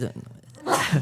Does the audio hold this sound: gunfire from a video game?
no